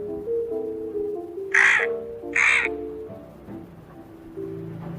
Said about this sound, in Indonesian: tuh bunyinya gagak